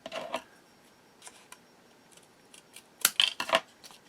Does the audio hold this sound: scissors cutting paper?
yes